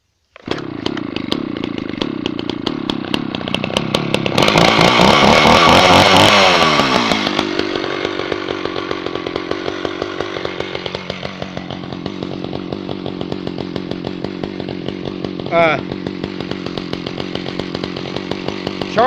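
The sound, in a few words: chainsaws idling while warming up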